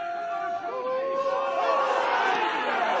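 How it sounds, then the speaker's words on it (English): Rugby cup final crowd in Wales, a broad swelling roar of voices rising over a few seconds, distant stadium noise with a commentator talking over it. "The crowd finding their voice as well."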